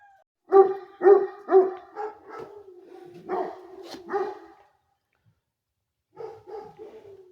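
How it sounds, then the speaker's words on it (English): Hound dogs guarding a rabbitry bark and bay in a series of deep, drawn-out calls, then fall quiet before a final short bout of barking at moderate distance. "As you can hear, the hound dogs are guarding as well."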